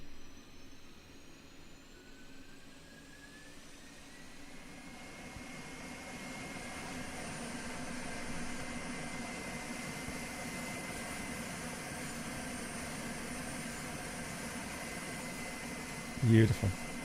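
A steady whine and broad hum from the auxiliary power unit of a MaddogX MD82 airliner in Microsoft Flight Simulator 2020, droning continuously with rising tonal lines and a brief louder bump near the end.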